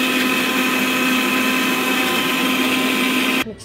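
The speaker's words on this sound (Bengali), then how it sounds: "তো এইবার আমি এটা মিক্সিতে একদম ব্লেন্ড করে নেবো ভালো করে।" Electric mixer grinder blending chhena (cottage cheese) for fritters, a loud steady high-pitched motor whine running continuously for over three seconds before cutting off abruptly at the end.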